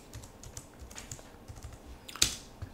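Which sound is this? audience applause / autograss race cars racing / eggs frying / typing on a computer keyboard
typing on a computer keyboard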